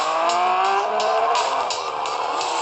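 Cars racing in the video game Racers VS Cops, with a continuous engine whine that rises and falls, a faint siren-like tone, and a repeating clicking pulse, all loud and steady with no talk.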